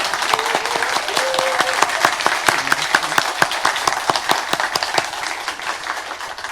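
A church congregation claps and cheers in praise during a worship service, a loud, sustained burst of dense applause with sharp individual claps standing out, fading slightly toward the end.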